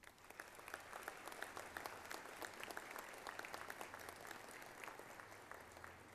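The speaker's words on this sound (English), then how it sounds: "Let us recognize the achievement of these students with another round of applause." A commencement crowd at UTPA in December 2014 applauds cum laude graduates, a broad, continuous roll of clapping that sounds distant and fairly soft, holding steady throughout.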